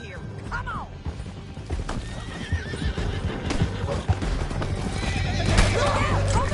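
Horses gallop and whinny in the video game Red Dead Redemption 2, with a rapid clip-clop of hooves, sharp neighs and shouting voices over a busy action soundscape.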